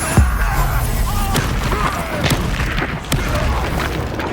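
A Bombarda spell explosion in Hogwarts Legacy erupts with a heavy boom amid a dense, continuous game soundscape, followed by a few sharper blast transients over rumbling combat noise.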